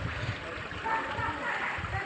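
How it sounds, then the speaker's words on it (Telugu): The Manjira river flows from the Singur dam through seven channels beside a temple, a steady close rush and splash of water, with voices in the background. "ఇలాంటి వాటర్ 7 దారుల ద్వారా కిందికి వెళ్తాయి."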